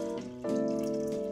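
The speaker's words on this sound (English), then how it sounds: "This time, fill up your pitcher to a little bit less than 1 liter." Running tap water pours steadily into a pitcher, a close, continuous splashing stream that swells louder partway through, with no voices.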